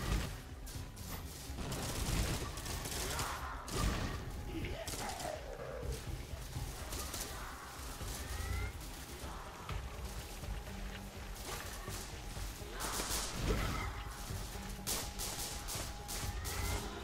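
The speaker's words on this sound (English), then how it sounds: "People shooting me, bro." Gunfire in a Roblox zombie game rattles in scattered bursts and single shots under a busy, moderately quiet game mix, with brief crashes between volleys.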